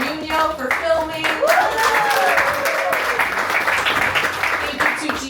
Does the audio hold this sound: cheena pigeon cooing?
no